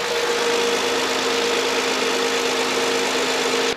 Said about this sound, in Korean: LPG의 엔진 소리